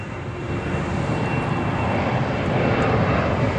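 An airplane passing overhead in Chicago, a loud continuous engine roar that builds slightly toward the end, with no voices.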